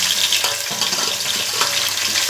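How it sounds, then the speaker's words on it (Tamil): Onion, green chilli, tomato, curry leaves and ginger-garlic sauté in a hot pan, a dense, loud, continuous sizzle with occasional scraping stirs, close up and without talk. "வதங்கி வரட்டும்."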